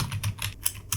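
Rapid clicks of fingers typing on a computer keyboard, irregular keystrokes in quick succession, close and clear with a faint low hum beneath and no talk.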